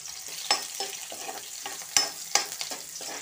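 Onions frying in hot oil with whole spices such as cloves, cardamom and bay leaf for mint rice, a soft sizzle broken by a few sharp spatula scrapes and taps against the pan.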